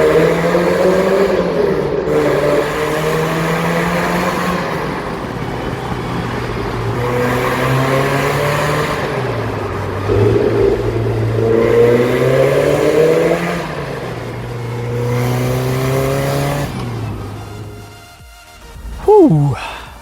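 A supercharged Mazda MX-5 Miata engine pulls hard under full throttle, revs climbing through repeated gear changes in a steady rising-and-dropping pattern, loud and close from inside the car, ending in a sharp high whine.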